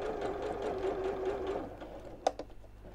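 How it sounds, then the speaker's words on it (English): A sewing machine runs steadily while stitching around the edge of a fabric wine glass coaster, with a humming whir that stops after about a second and a half and is followed by a couple of small clicks, faint and close. "So I'm sewing all the way around"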